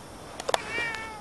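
A house cat gives a couple of short chirpy meows and then a longer, clear meow, close by and fairly quiet in a calm indoor space.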